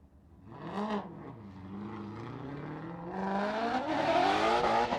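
A Ford Mustang drift car on Roush Performance Falcon tires revs hard during a Formula Drift qualifying run in Orlando, its engine note rising and wavering before climbing to a loud, sustained high-pitched scream.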